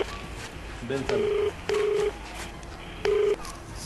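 A phone call connecting, with three steady electronic ringback tones in short evenly spaced bursts, clear and close, and faint voices in the background.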